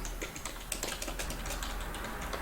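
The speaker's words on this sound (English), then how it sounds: "I can type on the keyboard and it will go up on the screen" Quick, uneven clicks from typing on a computer keyboard, close and fairly faint over a soft steady hum.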